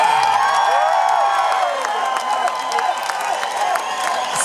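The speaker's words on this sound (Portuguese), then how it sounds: "E agora, os aplausos pra ela." A lively crowd cheers and applauds a contestant at a hair-whipping contest with a band playing. The noise is loud and continuous, with whoops and shouts over sustained tonal music.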